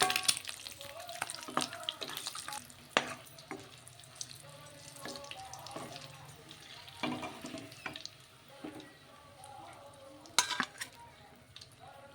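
Eggs frying with turmeric in a pan, a soft sizzle broken by irregular scraping and clattering strokes of stirring, close and moderately loud with quiet stretches between.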